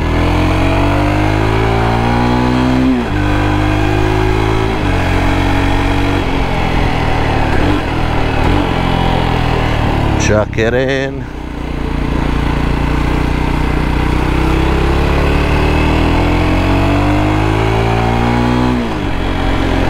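A 2024 Jawa Perak 350 motorcycle engine pulls hard and steady on an uphill road, its loud close drone rising in pitch over about twenty seconds with a brief dip midway, and someone says a few words.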